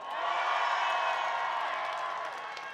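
Crowd of festival-goers at an outdoor concert during a herbal-medicine festival, clapping and cheering in a steady, dense roar that holds for a few seconds before easing slightly, heard from amid the audience.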